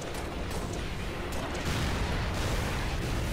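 Continuous rumbling barrage of artillery fire in the Halo Reach game, a dense, loud wash of booms and blasts with no clear gaps, swelling slightly toward the end.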